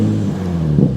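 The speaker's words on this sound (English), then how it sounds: "you will hear the intake more from the front" Nissan 350Z engine fitted with an Injen intake revving, heard from the front as a steady, loud, close mechanical drone that swells briefly near the end.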